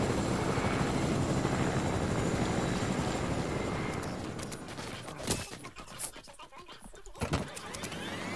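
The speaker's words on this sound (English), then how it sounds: "I'm borrowing your helicopter." A helicopter in the video game Fortnite, a loud continuous rotor and engine roar that fades down partway through, followed by sharp bursts of gunfire and impacts.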